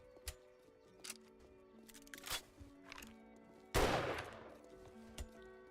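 Gunfire in a video game: sharp single shots crack out at irregular intervals, with one heavier, louder blast midway, all fairly close against a quiet, humming game background.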